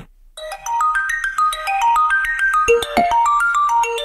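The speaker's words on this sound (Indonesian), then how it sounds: "HP-nya langsung bunyi alarmnya dan keras banget" An Android phone's anti-theft alarm app plays a loud, bright, rapid melody of repeating beeping tones, continuous and close, with a couple of sharp clicks partway through.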